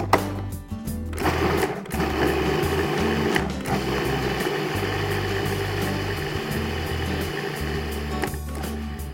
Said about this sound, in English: we're gonna actually rice it right here in the food processor